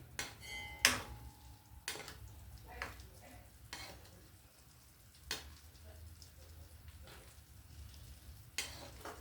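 Asafoetida fries briefly in hot oil for a pickle, a faint continuous sizzle punctuated by scattered clinks and scrapes of a spoon against the pan.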